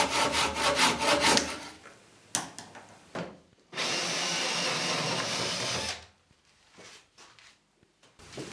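A saw cuts a hole into a disc for a homemade street-cone cyclone dust separator. Loud rasping bursts at the start give way to one steady, close stretch of cutting about two seconds long, then quiet shuffling.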